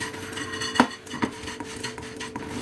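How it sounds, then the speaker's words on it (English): A few sharp clinks and scrapes of a utensil against a pan while chutney dal and red chilies are dry roasted, two distinct knocks standing out over a low steady background. "Now just dry roast this also."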